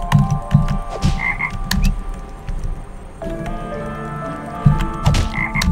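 Repeated croaks from a frog in the puzzle-platformer Toki Tori 2+, loud and close, coming in bursts over a steady game music and ambience bed.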